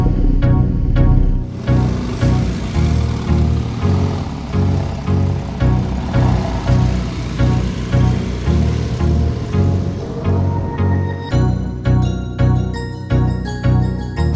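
A 2017 Porsche 911 Carrera 4 GTS Cabriolet with a turbocharged flat-six engine driving, a loud, rhythmic engine note that surges in repeated pulses and is heard alone without talk.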